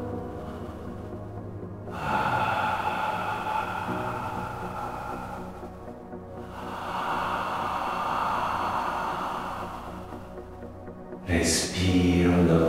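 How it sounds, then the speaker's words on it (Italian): Loud open-mouthed exhalations during a bioenergetic breathing exercise, several long breathy rushes of air, each a few seconds long and separated by short quiet pauses, close and audible on their own with no talking. "Un'espirazione sonora la facciamo uscire."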